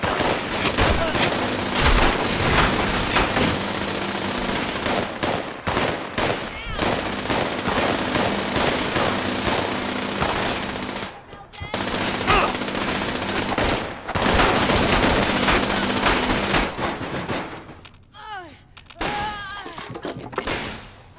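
Sustained automatic gunfire in the video game Fallout 76, rapid dense bursts filling most of the stretch with short gaps, ending in scattered shots and whooshing effects.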